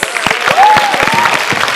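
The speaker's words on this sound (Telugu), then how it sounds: "ఒకసారి గట్టిగా క్లాప్స్." Studio audience at a Telugu TV game show claps in quick, brisk bursts while a host talks loudly over the applause.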